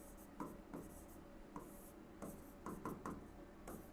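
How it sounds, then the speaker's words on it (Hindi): Chalk or pen writing numbers on a board, heard as quiet, irregular scratchy strokes and light taps in short bursts over faint room hiss. "मैं कुछ परिमेय संख्या लिखता हूँ।"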